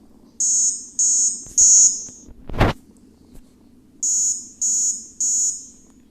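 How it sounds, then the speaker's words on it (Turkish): An airplane alarm in a Roblox game beeps in three short buzzing tones, a brief thud breaks in, then three more identical beeps follow, loud and close. "Bir ses geliyor ben de korktum ya. Alarm çalıyor."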